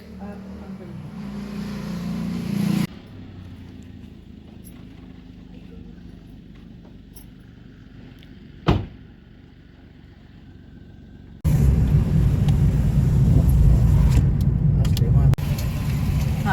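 A car engine rumbles loudly at the start and end, with a quieter stretch in between broken by one sharp thump.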